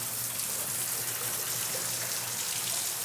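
A small waterfall in a cave garden splashes steadily, a dense, continuous wash of falling water heard close and alone, with no voices.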